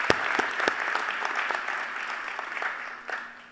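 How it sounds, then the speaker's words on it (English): An audience at a presidential installation at Bowie State claps in a brief round of applause, steady at first and then thinning out, with a few sharp nearby claps standing out. "Give yourselves a round of applause."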